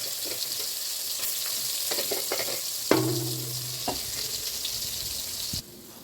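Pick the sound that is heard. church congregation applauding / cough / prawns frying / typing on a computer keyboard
prawns frying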